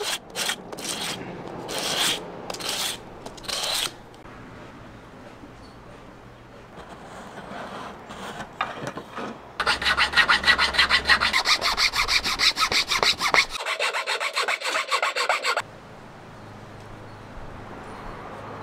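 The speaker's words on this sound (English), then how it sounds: "we just got some 150 grit sandpaper on a smooth surface" 150 grit sandpaper rubbing a natural fork wooden slingshot smooth, close rhythmic back-and-forth strokes in bursts, with a faster, denser stretch of scratchy sanding midway.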